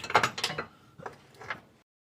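A ratcheting wrench clicks in short bursts on a BMW front lower control arm during replacement, a few quick mechanical rasps close by, then stopping.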